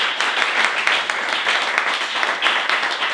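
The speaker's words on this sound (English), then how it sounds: "Please give him a round of applause." Steady round of applause from an audience at a talk event, dense continuous clapping that holds at an even loudness throughout.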